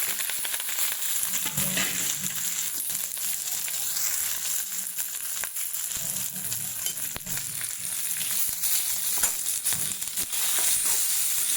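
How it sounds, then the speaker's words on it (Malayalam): Chopped onion, curry leaves, dried red chillies, ginger and green chillies fry in hot oil, a continuous dense sizzle with occasional spoon scrapes as they are stirred, close and loud throughout. "നല്ലപോലെ ഇളക്കി സവാള മൊത്തം മൂക്കുന്നത് വരെ നല്ലപോലെ ഇളക്കി മുഴുവൻ മൂപ്പിച്ചെടുക്കാം"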